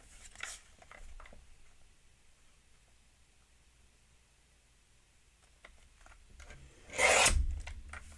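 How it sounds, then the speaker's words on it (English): Paper being cut in half diagonally while trimming pieces for a squash book mini album, a short raspy burst of blade through paper standing out clearly near the end after faint rustling. "cut this in half diagonally"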